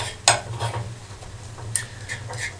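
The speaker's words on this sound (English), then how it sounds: "Now you might be able to hear them start to sizzle." Scrambled eggs sizzle softly in a pan on a stovetop burner as a utensil scrapes and clinks against the pan in a few sharp strokes over a low, steady hum.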